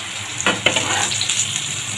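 Yardlong beans crackle in hot oil, a close, busy sizzle with a few sharper spatters and stirring scrapes over two seconds.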